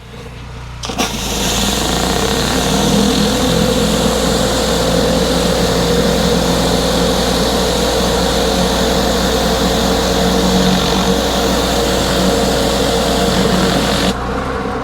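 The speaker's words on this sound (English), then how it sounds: "I hate trying to talk over the surface cleaner" Pressure washer surface cleaner scrubbing a dirty sidewalk, a loud steady engine drone and hissing spray that starts abruptly and cuts off near the end.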